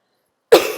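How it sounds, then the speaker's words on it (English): A single sharp cough bursts out after a short silence, close and loud, followed by a brief second catch at the end. "I'm gonna cough."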